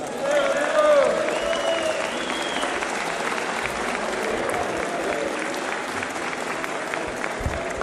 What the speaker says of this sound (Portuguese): uma grande salva de palmas para o nosso presidente